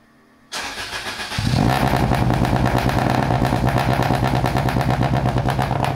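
A BMW E30 fitted with a new exhaust cranks briefly, then fires and settles into a loud, steady, throbbing idle close by.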